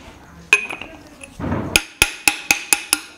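A metal hammer taps an oil seal into its bore, giving sharp ringing strikes: a couple of early hits, a brief scraping rustle, then five or six evenly spaced close taps that sound increasingly solid.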